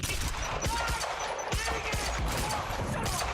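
Video game firefight in Quantum Break, with rapid bursts of gunfire and grenade blasts crackling densely and continuously at close range throughout.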